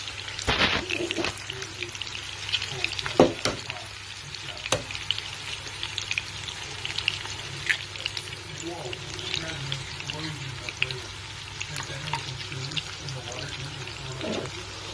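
Two eggs sizzle in hot oil with a potato and onion mixture for aloo anda tikka, a steady close frying crackle with sharp spatula clicks, while someone talks over it.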